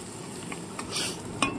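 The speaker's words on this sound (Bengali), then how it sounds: "পেঁয়াজটাকে একটু হালকা লাল লাল ভেজে নেবো" Onions fry gently in oil, with a soft sizzle and a few light clinks and scrapes of a utensil in the pan, close and fairly quiet.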